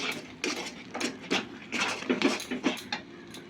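Patishapta pitha batter with milk powder being mixed in a bowl, heard as a series of irregular clinking, tapping utensil strokes against the bowl with short scraping bursts and no voices.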